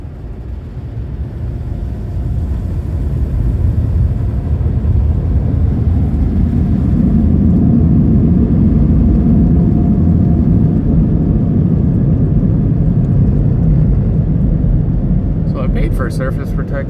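Flash dry blowers at a PDQ Tandem ProTouch touchless car wash at an Exxon station in Cedar Park, Texas, roaring up from a low start into a loud, steady, heavy rush of air that sustains without a break.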